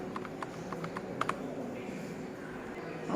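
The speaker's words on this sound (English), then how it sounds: "Okay, so now I am typing now" Typing on a computer keyboard, a faint, irregular patter of light key taps with a few sharper clicks, quiet against room noise and no talking.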